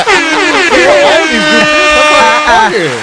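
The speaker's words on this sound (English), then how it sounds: "Thank you, air horn." Looping air horn sound effect blasts repeatedly in rapid, wavering bursts, loud and close, with voices talking underneath during a podcast.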